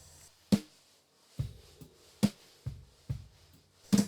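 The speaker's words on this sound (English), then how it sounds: "So over here we have actually 3 snare drums that sound something like this." Snare drum hits recorded with a 441 and a 451 microphone on top strike in an uneven rhythm within a mix. There are about eight sharp, punchy cracks over a low background.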